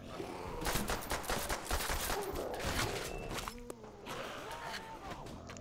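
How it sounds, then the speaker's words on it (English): Rapid, dense bursts of gunfire from a gun-wielding zombie in a custom zombies video game, loud and continuous, with clattering impacts and brief pauses toward the end. "I can't believe the zombie's shooting me."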